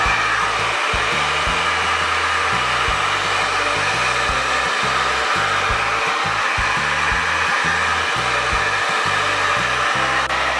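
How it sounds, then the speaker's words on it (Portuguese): A hair dryer blows steadily and loudly for the whole stretch, a constant rushing whir with a low, pulsing hum underneath. "eu vou finalizar com o secador"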